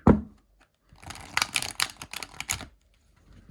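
A tarot deck being shuffled, a soft thump at the start followed by a dense burst of riffling card flutters and slaps, then a few faint taps near the end.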